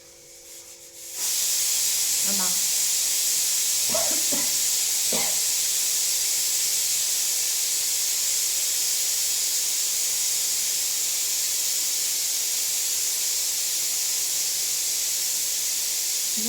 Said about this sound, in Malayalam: ഒരു മിനിറ്റ്, കുക്കർ ഇപ്പോൾ വിഷിൽ വരും